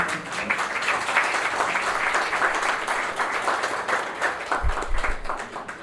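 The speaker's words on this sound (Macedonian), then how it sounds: "И секако со аплауз малка мотивација за" Sustained audience applause fills a book promotion event, a dense steady wash of many hands clapping at even loudness for several seconds, with a low thump near the end.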